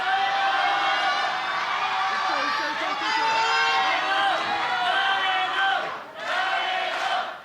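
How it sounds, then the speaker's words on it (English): Sold-out Korakuen Hall crowd loudly chanting for wrestler Galeno during a GHC Heavyweight Championship match against Ozawa, a sustained roar of voices with rhythmic swells and a brief dip near the end. "Chants of Galeno here"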